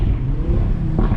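An Audi RS3 engine revs hard, its deep exhaust rumble filling the space, with a sharper burst near the end suggesting an exhaust pop; no talking over it.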